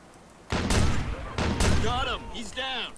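Sniper rifle fire in the video game Watch Dogs: a few sharp, loud shots with ringing tails, close together, with voices talking over and between them.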